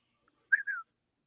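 A person gives a short two-note whistle to call someone over, crisp and close, with a brief rising note then a longer falling one against silence.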